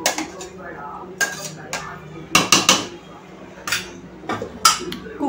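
Metal clinks and clatters from a pressure cooker lid being handled and fitted onto the cooker of masala pulao, several sharp knocks at uneven intervals, close up, with faint background noise.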